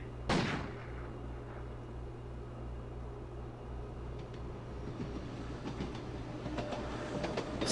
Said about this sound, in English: Train passes by.